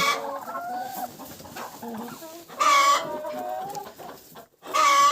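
Ducks squawk and call for food in a noisy cluster nearby, with a few loud, sharp calls standing out above the rest.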